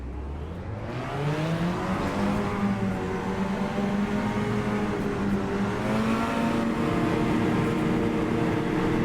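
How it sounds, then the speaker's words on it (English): A Seat Cupra TCR race car engine in Assetto Corsa idles low, then revs up and holds a loud, rising whine that climbs in pitch and stays steady. "Start to build up the revs now."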